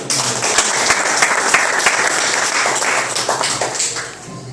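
Congregation applauding during a church service, a loud continuous round of dense clapping with a few sharper individual claps standing out, holding steady throughout.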